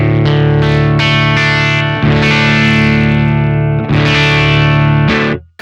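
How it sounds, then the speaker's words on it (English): An electric guitar runs through a DSM Humboldt Simplifier set to an AC30 profile with 6L6 tube choice, playing loud, distorted sustained chords with chorus-like shimmer, struck in several separate hits before cutting off. "DSM Humboldt simplifier with an AC30 profile, but it's got 6L6 tube choice on the switches. So anyway, this is what that sounds like."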